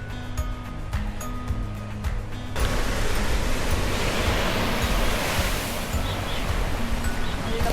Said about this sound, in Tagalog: Kasi parang ang taas ng alon.